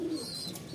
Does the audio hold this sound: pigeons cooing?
yes